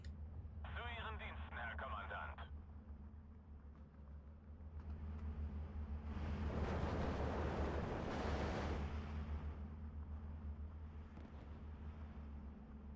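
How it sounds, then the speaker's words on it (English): Mortar fire on a sniper in the WWII strategy game Steel Division 2: a loud, broad rumbling burst of explosions swells and fades over several seconds above a steady low engine drone, with brief radio chatter at the start. "I'm going to mortar that sniper just because it's going to do a lot of damage to my MG"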